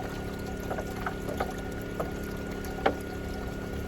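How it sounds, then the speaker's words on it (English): A gallon of water poured into the side spout of a swamp cooler in a van, a soft steady pour with faint splashes under a constant mechanical hum from a running generator. "I'll pour it on the side here, right in this little spout right here."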